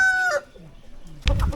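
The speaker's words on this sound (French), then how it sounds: "Et un coq vert." A rooster at a traditional village on Bali finishes a loud, close crow with a drawn-out tonal tail, then after a short quiet gap a burst of clucking and scratchy noise follows.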